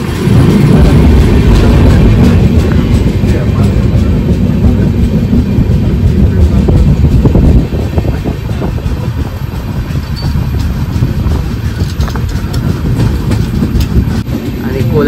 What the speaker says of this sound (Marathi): तर इथे आपल्या ट्रेनला सिग्नल भेटला आहे. थोड्याच वेळात डिपार्चर होईल पनवेल स्टेशनवरून.